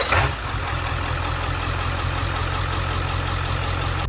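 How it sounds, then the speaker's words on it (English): Steady engine drone from a Chevrolet Corvette C6 Grand Sport's intake while riding inside, a continuous low rumble with even loudness throughout and no talking. "Let's see if we can get you guys some sound from this here intake."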